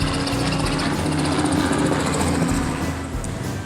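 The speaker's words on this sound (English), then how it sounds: "Oh, here comes a helicopter." A helicopter flies overhead near a restaurant, giving a loud, steady rotor and engine drone that holds throughout and eases slightly toward the end, with no talk.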